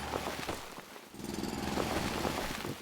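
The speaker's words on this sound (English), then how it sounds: "I'm going to drill a little pathway here that will go underneath our" Mining drill boring a tunnel in the factory-building game Foundry: a continuous gritty, rattling grind with steady churning texture, fairly loud and unbroken, no talking.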